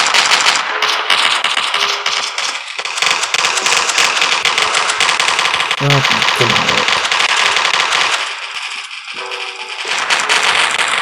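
Rapid gunfire from pistols in the free mobile first-person shooter Coalition, loud and dense with near-continuous cracking shots over game effects, easing briefly before resuming.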